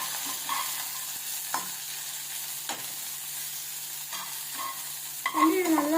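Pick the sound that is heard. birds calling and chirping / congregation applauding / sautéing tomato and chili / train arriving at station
sautéing tomato and chili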